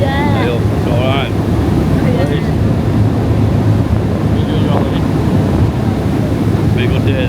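Strong wind roars and buffets the microphone by the sea on a boat trip from Tenerife to La Gomera, a steady loud rush with bird-like chirps and faint voices under it.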